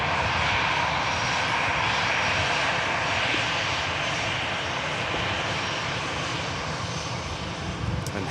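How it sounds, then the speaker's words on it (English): An EasyJet airliner arriving at Manchester Airport from Geneva roars with a steady, loud, broadband engine rumble that holds constant throughout, heard alone with no voices. "This EasyJet arriving in from Geneva."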